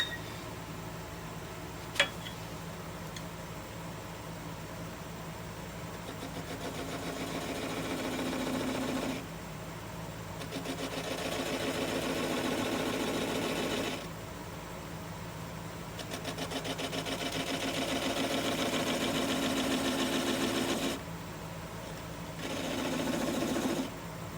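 Wood spinning on a lathe and cut with a quarter-inch skew chisel gives a steady whirring hum broken by cutting passes. It rises and falls in several long stretches, with one sharp click near the start.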